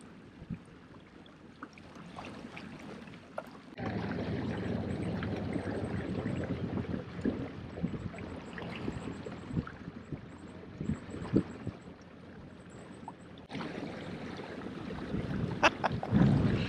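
An Old Town Sportsman AutoPilot 136 motorized kayak cruises over open water at high power, with steady wash and wind rushing past the microphone that swell loudly after the first few seconds and hold as a continuous churning roar.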